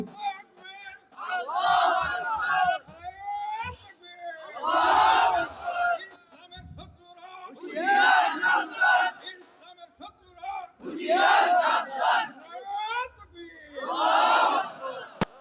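A large crowd at an outdoor Islamic religious gathering roars back in loud, unison shouts answering the takbir call, several full-throated bursts alternating with a single speaker's calls.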